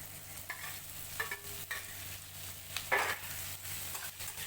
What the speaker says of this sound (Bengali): আটার পাস্তা দিয়ে 1 মিনিট আমরা নাড়াচাড়া করে নেব